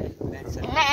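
A goat of the Barbari breed bleats at a large livestock market in Pakistan, a close, wavering cry rising at the end of the clip over crowd chatter and nearby talking.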